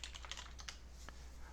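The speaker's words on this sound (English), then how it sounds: "I will type" Rapid, quiet keystrokes on a computer keyboard, a close, irregular patter of clicks over a low steady hum, with no voices.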